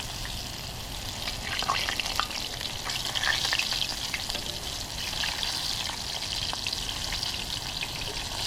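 Seasoned flounder fillets fry in hot oil with a steady sizzle and crackle, and a few louder pops come through the close, even hiss.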